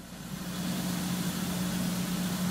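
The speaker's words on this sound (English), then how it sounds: "start and run your engine and watch for air bubbles" A Lycoming aircraft engine runs with the cowling off, a steady mid-pitched drone with a constant hum that holds at an even level from start to finish.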